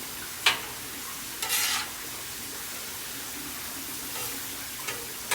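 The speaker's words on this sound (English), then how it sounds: "I'll keep these mushrooms going with the garlic" Mushrooms and garlic sauté with olive oil on a flat griddle, giving a steady low sizzle, broken by a few louder scraping, stirring and flipping bursts from a spatula.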